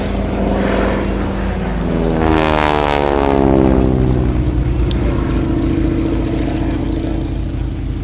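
A North American Harvard propeller aircraft passes at an air show, its loud droning engine sweeping down in pitch as it flies by, continuous throughout.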